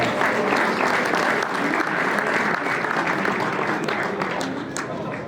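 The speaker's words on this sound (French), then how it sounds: "obtenez un applaudissement" Dense, steady applause from an audience at a provincial motorsport awards ceremony, greeting Anthony Méné of the Bayard team, loud and continuous throughout and tapering slightly at the end.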